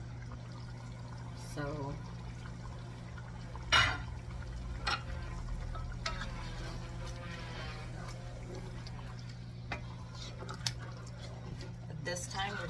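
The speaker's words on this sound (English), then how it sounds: "this time we're gonna add our 9 cups of water" Nine cups of water pour into a pot of rice, chicken and onions for a Fijian-style chicken palau, giving soft splashing and trickling under a low hum, with a brief spoken word and a few clinks.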